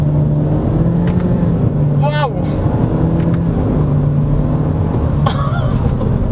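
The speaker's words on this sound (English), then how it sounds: "Look, I'll shift down to first gear." A 2022 Honda Civic with a CVT shifts down to first gear, and its steady engine drone rises in pitch, loud and close inside the cabin, with a voice exclaiming over it.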